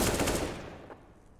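AK rifle fire in Counter-Strike: Global Offensive, a quick burst of shots at the start that fades out within about half a second into quieter game sound, with no talk.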